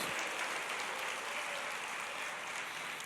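A church congregation claps in praise, a steady wash of applause that is fairly faint and even throughout.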